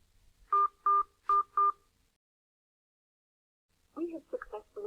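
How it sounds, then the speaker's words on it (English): Four evenly spaced phone keypad DTMF beeps enter a four-digit PIN during an automated phone verification, each short, clear and equal in pitch, followed by a pause and then a voice speaking. "Using the touchpad on your phone, please enter the 4-digit PIN number that was displayed on your screen."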